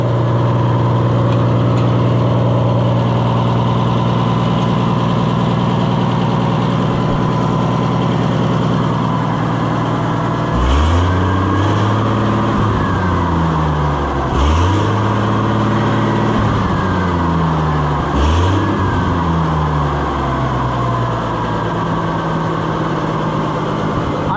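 An Oliver 1655 tractor engine, just back from an in-frame overhaul, idles steadily and loudly with a deep, even rumble, then is revved up and back down three times in smooth swells before settling.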